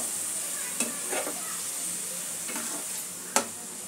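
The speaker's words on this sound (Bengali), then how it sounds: "ছানাটা দিয়ে একটু নাড়াচাড়া করে নেব। ছানাটা একটু ভাজা ভাজা করে নেব।" Chhana (cottage cheese) is stirred and fried in a pan for chhanar chop, a soft continuous sizzle broken by a few scraping stirs and one sharp clink of the utensil.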